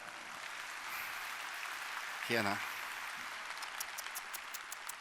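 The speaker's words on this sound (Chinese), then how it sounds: "好，我们再给 Celeste 一个最热烈的掌声哦！" An audience at a Taiwanese speaking event applauds steadily for a speaker, fairly soft and distant, while a woman exclaims briefly partway through.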